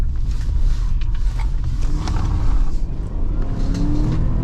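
A 2016 Chevy Tahoe Police Interceptor slows and swings through a tight police-style U-turn, its engine droning loud and close with a deep steady rumble, a brief rise in revs and faint tire or road noise, no talking.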